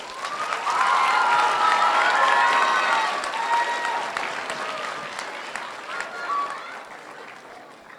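Applause from a crowd at an 8th grade promotion ceremony swells in and holds steady, with a few faint shouts and cheers mixed into the sustained clapping before it gradually thins out.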